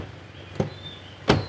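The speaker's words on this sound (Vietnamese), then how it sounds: "Tiếng đóng cửa nè." A door of a 2013 Toyota Innova E family car is shut: a light knock, then a louder solid thump of the door closing nearby, over a faint steady hum.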